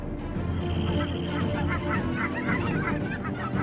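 Wild geese migrating south in foggy autumn honk in a faint, scattered series over a low steady background rumble.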